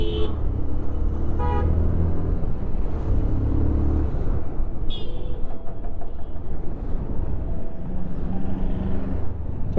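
Busy street traffic in Rishikesh's main market rumbles past as car horns toot repeatedly, several short honks near and farther off over steady engine noise.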